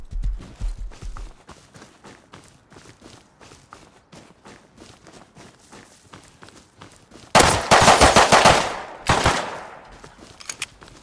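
Gunfire in the survival game Rust: sharp shots and quick bursts snap at a steady clip, then a much louder, closer volley erupts near the end with ringing echoes.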